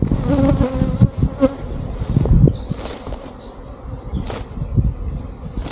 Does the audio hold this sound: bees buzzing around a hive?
yes